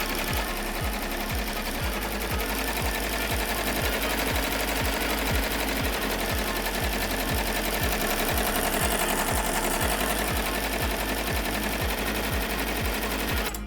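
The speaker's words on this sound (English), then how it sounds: "it's just doing the final satin stitch border, I can crank up the speed" Embroidery machine running at high speed while stitching the final satin-stitch border of a poly-twill appliqué, giving a steady, fast mechanical chatter with a regular needle-beat rhythm throughout, close and continuous.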